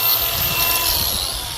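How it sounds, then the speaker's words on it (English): Wire brush scrubbing the flange of a 28% liquid nitrogen tank, a harsh, continuous hissing scrape, close and loud with no talk. "we're going to take our wire brush out and clean up the flange on the tank side"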